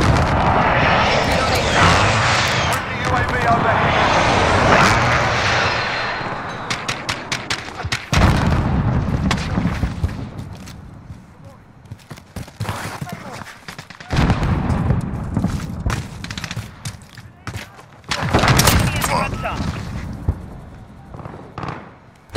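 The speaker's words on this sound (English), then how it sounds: "Enemy precision airstrike!" Enemy precision airstrike in a military shooter game, with jet aircraft roaring overhead and a string of heavy explosions and booms, loud and dense at first and then returning in bursts, mixed with shouted voices.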